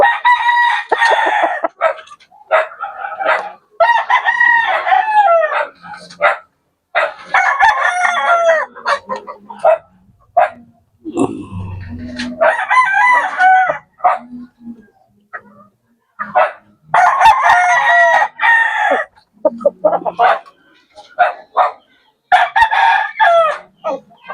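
Roosters at a gamecock farm crow repeatedly in loud, close calls, with a dog barking and hens clucking between them.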